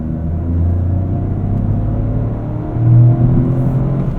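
The engine of a 2023 Toyota GR Corolla pulls during street driving, heard from inside as a steady, loud low drone that swells briefly toward the end.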